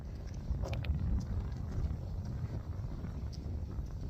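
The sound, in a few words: wind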